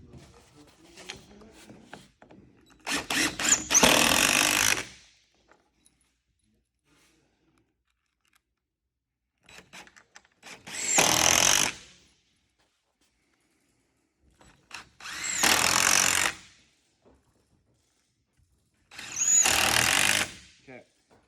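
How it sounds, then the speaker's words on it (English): A power drill drives screws into a wooden cap assembly in four separate bursts of roughly a second each, loud and close, separated by quiet pauses with faint handling noise. "we're going to screw it in."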